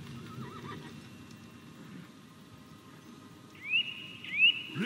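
Two sharp horse whinnies in a video game ring out near the end over a low rumbling background, after a quieter stretch with faint distant noise.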